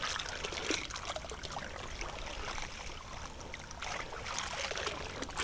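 Water trickling and splashing as gold sluice mats are rinsed out into a bin of water, a soft continuous dribbling with small splashes, close and fairly quiet.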